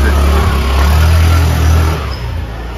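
A motorcycle engine revs and rumbles close by as it passes from behind along a narrow street in Varanasi, a steady low drone that swells and then eases off toward the end.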